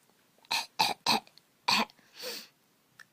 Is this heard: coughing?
yes